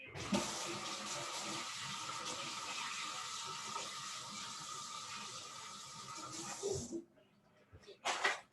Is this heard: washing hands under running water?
yes